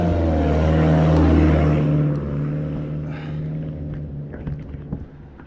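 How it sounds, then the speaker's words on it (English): A loud car with no muffler drives past at night during a walk, its deep rumbling exhaust roar swelling close by, then gradually receding into the distance with faint footstep-like ticks. "The muffler-less car."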